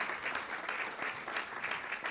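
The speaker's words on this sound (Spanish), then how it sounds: "Un aplauso a Cristo primeramente" A church congregation claps in sustained, even applause heard at moderate distance, with no talk over it.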